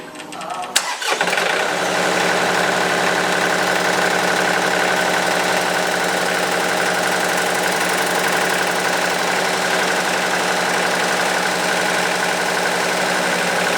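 A John Deere 2520 tractor engine cranks briefly, catches, then settles into a steady, loud, rumbling idle that runs on evenly.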